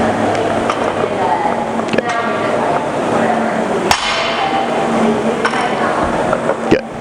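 Barbell power cleans lifted from floor to shoulder, with sharp metallic clanks of plates and bar at each rep over a noisy gym background.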